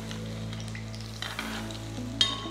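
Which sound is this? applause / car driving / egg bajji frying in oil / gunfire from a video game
egg bajji frying in oil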